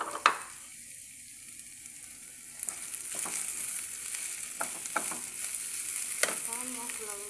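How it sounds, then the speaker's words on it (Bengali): Okra sizzles in a pan with potatoes and small fish that have been fried until reddish-brown, a steady close hiss with intermittent stirring clicks and scrapes that grows fuller after a few seconds. "আমি এগুলো লাল লাল করে ভেজে নিলাম। এখন আবার ভেন্ডিগুলো দিয়ে দিলাম।"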